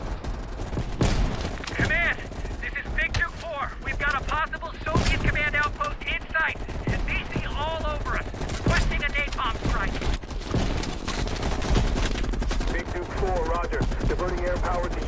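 Sniper rifle shots and surrounding gunfire in a Cold War-era military shooter campaign on a ridge: repeated sharp cracks and bursts scattered throughout, under frequent shouted radio-style voices.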